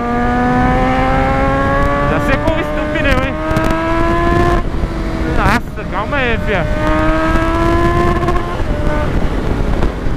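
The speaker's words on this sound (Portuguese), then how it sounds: "Muito carro aqui no rolê, mano." Busy street traffic heard from a Kawasaki Z1000 motorcycle ride, with several engines droning and rising in pitch as vehicles accelerate and pass close by, loud and continuous, while a rider speaks briefly.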